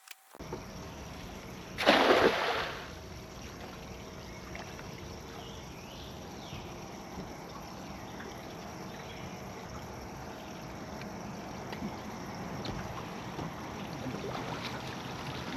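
A boat's outboard motor drones steadily on open water during a cast-net and catfishing outing, with a brief louder splash-like burst near the start and no talking.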